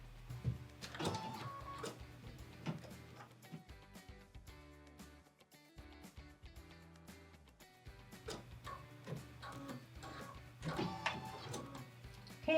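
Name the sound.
embroidery machine stitching a star design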